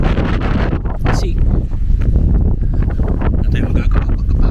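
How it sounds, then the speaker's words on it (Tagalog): Strong wind buffets an outdoor microphone at Wollaton Hall and Deer Park in England, a loud continuous low rumble that persists throughout with faint traces of a voice underneath. "malakas ang hangin"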